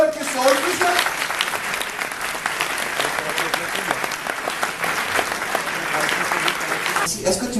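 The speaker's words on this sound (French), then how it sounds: "sous les applaudissements des spectateurs qui sont présents" A stage show audience claps steadily and loudly for several seconds, a dense continuous wash of applause with a voice speaking over it.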